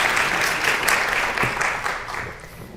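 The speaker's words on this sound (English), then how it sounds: "Another round of applause for these three wonderful poets." Audience applause for three poets at a literary festival event, a steady wash of clapping from a seated crowd, fairly loud and continuous throughout.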